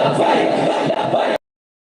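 A large crowd at a religious rally in Layyah shouts a slogan together, a loud, dense roar of massed voices that cuts off abruptly after about a second and a half.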